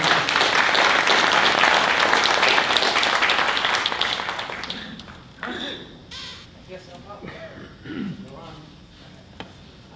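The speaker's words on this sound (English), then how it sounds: "Let's give a nice round of applause" A community club audience gives a round of applause to welcome an immigration lawyer. Loud, dense clapping dies away after about four seconds, then scattered claps and murmuring voices follow.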